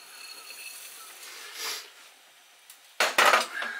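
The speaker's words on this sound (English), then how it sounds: "into that goes my rosemary, my bay leaves, my cinnamon stick," Rosemary, bay leaves, a cinnamon stick and spices go into a pot of ham hock soup, bringing soft rustling followed by a few close clinks and knocks against the pot near the end.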